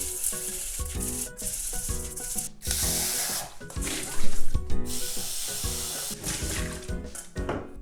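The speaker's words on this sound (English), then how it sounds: "So I'm going to rub the rice one more time." Washed rice grains rubbed by hand in a bowl for Japanese beef bowl preparation, giving a continuous gritty rustling and swishing, loud and close, with no one talking.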